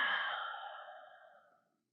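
A single long, soft exhale fades out over nearly two seconds as the body turns into a seated yoga twist, close and unhurried with no talking.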